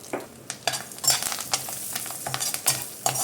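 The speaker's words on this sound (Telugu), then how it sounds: "ఈ విధంగా ఫ్రై చేసుకోవాలన్నమాట." Potatoes fry with chili powder and curry leaves in a pan, a continuous sizzle broken by repeated scraping strokes of a spoon stirring the mixture, close and fairly loud, with no talking.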